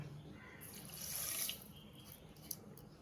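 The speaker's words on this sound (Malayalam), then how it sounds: "ഒരു ഒന്നര കപ്പ് പഞ്ചസാര ഇടുക കപ്പ് വെള്ളം ഒഴിക്കുക" Water poured into a heavy-bottomed pot holding sugar, a soft splashing pour that swells briefly, then a faint drip.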